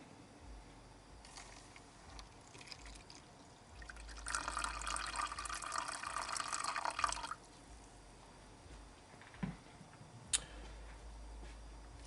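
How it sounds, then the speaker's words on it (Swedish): Water poured from a tap into a container to bring an oxalic acid rust-treatment mix up to 200 grams, a quiet trickle followed by a few seconds of steady filling hiss, then small drips and clinks. "Och så fyller vi upp med vatten så vi får 200 gram."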